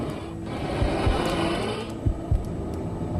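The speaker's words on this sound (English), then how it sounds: "They had a pulse, then a heartbeat." A heartbeat sound effect thuds a few times against a steady low hum in a haunted house in Connecticut, the beats irregular and dull rather than sharp.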